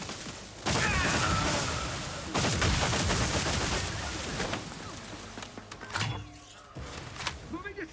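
Rapid sci-fi gunfire in The Outer Worlds 2, loud bursts of shots and mechanical clatter with a brief lull, while a synthetic voice speaks over the action.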